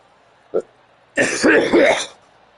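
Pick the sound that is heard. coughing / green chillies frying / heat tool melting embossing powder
coughing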